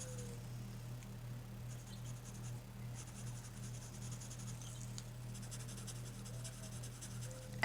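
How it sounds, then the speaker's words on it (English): White chalk pencil scratching and rubbing across paper in small circular strokes, faint and steady against a low constant hum, with no talking. "So I'm going to just go back to my white chalk pencil and fill in the rest"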